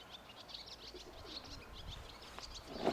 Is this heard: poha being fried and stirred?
no